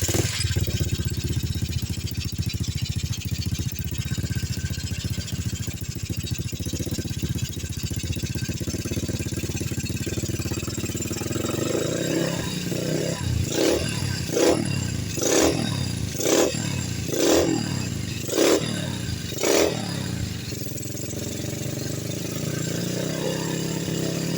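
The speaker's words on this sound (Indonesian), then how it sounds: "di sini langsung saja kita coba hidupin motornya, apakah CDI-nya sudah benar-benar berfungsi ya teman-teman." A motorcycle fitted with a replacement Jupiter MX CDI unit idles roughly, then is revved in a series of sharp throttle blips, loud and close with no talk over it.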